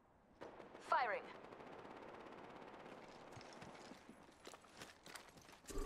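Gunfire in the Apex Legends video game: a sharp burst near the start, then scattered shots cracking over a dense, busy battle background.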